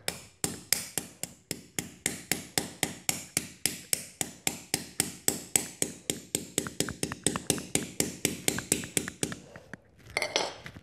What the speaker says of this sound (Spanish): ahora lo tenemos de encajar con el martillo y su tapón de goma